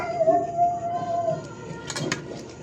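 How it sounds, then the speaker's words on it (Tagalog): A dog that sounds hurt gives a drawn-out howl, fairly close and loud at first, then trailing off as a brief sharper sound cuts in near the end. "Parang nasaktang aso yun eh."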